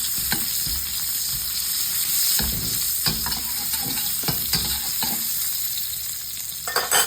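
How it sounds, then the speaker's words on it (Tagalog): Onions sautéing in rendered bacon fat, a loud, dense sizzle running throughout, broken by regular spatula scrapes and stirring knocks. "maglalagay na tayo ng sibuyas. Gigisa na tayo."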